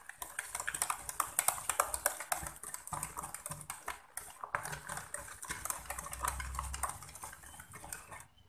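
A utensil whisks breakfast batter in a bowl until the batter is evenly mixed, giving fast, continuous clinking and scraping strokes that stay close and moderately loud, with no speech.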